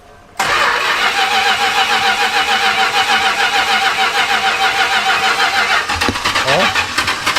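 Big block ramp truck engine, freshly fitted with a new ignition module, cranks briefly and then catches, running loud and rough close by with some uneven revving toward the end.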